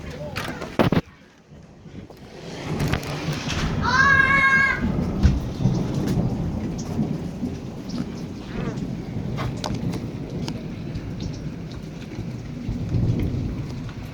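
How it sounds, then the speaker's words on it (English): Heavy rain hisses steadily over a thunderstorm as a long low thunder rumble rolls through, with a sharp knock near the start and a brief tonal sweep partway in. "It's freaking raining on. I don't know, it just started raining."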